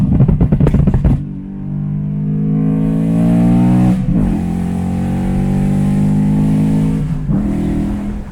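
A BMW E93 M3 convertible revs hard, a loud, close engine roar that sweeps upward and drops back between blips, with a few sharp pops at the start.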